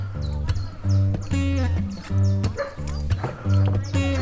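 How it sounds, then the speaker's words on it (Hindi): A small dog on a canoe trip in the Spreewald near Lübbenau barks repeatedly in sharp, close yaps, several in a row with short pauses, over a steady low background hum. "पर छोटा सा डॉगी भी है।"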